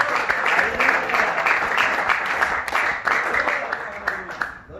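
A church congregation claps for Jesus in a sustained burst of rhythmic applause, moderately loud with voices mingling under it, tapering off at the close.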